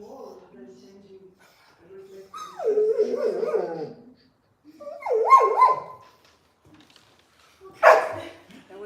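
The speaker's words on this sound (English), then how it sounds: "There was a dog outside." A dog barks outdoors, a few barks and drawn-out yelps with pauses in between, mixed in with people talking nearby.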